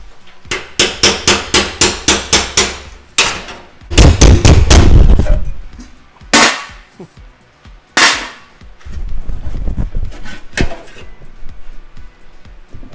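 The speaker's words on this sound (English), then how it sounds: "now we're just gonna get in here with our chisel" A hammer driving a chisel through the metal fender of a 1994–2002 Dodge Ram truck, a rapid series of sharp, loud metallic strikes, then heavier scattered blows and grinding scrapes.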